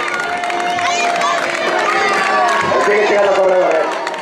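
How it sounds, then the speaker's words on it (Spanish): Spectators at a popular footrace finish line in Meaño clap and cheer for arriving runners, lively mixed clapping and shouts with a busy crowd and voices talking over it. "Ahí, este aplauso para Paco Moreno"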